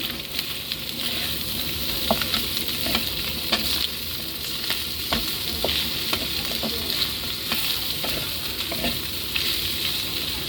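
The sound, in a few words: stirring Bicol Express with green and red chili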